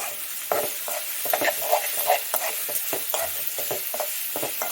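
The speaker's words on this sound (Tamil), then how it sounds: "இந்த கேரட் வந்து கொஞ்சம் வதங்கட்டும்." Finely grated carrots sauté in a pan for a whole-wheat breakfast dish, giving a steady close sizzle broken by repeated scraping stirs of a spatula, with no talking.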